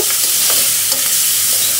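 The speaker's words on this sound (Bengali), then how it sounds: "এখন মাছটাকে একটু কষিয়ে নেব।" Fish cooking in a pan with garlic, cumin paste and green chillies, sizzling steadily with quick stirring scrapes across the short stretch.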